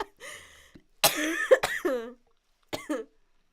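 Person coughing after laughing, a short throaty cough, then a burst of several harsh coughs and a final pair after a pause, close and clear in a quiet room.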